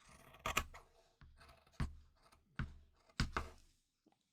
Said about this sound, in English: So I'm going to cut along this line